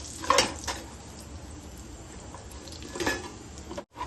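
Fried chamadumpa being stirred and tossed in a pan, with a couple of clattering scrapes of a spoon against the metal and a soft background hiss in between.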